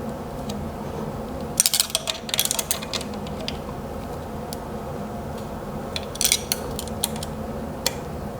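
Motor bolts are tightened by hand on a Skywatcher EQ6-R Pro telescope mount, a low mechanical hum with a few short bursts of close metallic clicking and ratcheting.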